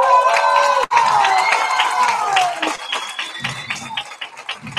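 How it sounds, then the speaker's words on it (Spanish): Audience at a live flamenco show cheers and claps, a loud crowd roar with whoops that fades into scattered clapping and chatter toward the end. "un fuerte aplauso acá también para nuestra otra bailadora, Claudia Costa."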